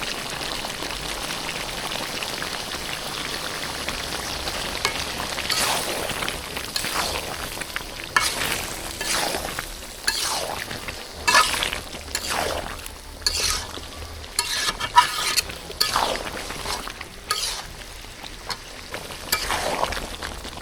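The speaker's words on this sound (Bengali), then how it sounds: "আলুটা দিয়েছি, এবার ভালো করে কষাই নেব।" Small round new potatoes from Bogura sauté in a pan with beef tilai and heart, a soft continuous sizzle broken by irregular crackling pops and stirring scrapes, no voices.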